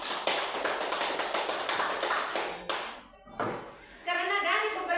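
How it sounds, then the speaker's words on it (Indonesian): Classroom group clapping for a fourth-grade teacher at an Indonesian elementary school, a dense run of hand claps that pauses briefly and then resumes, with some voices mixed in. "Kita tepuk tangan dulu untuk ibu kelas 4"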